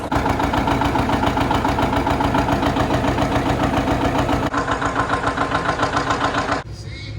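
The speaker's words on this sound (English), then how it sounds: "This is one of the few tractors that we have that always starts every single time." A farm tractor engine runs at a steady, loud, rhythmic idle, chugging evenly before the sound drops off near the end.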